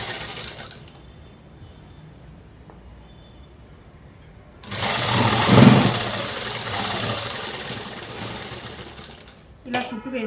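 Sewing machine stitching a dress cut from a saree, running loud and steady for about five seconds in the middle, with quiet room noise before and a brief burst near the end; no speech.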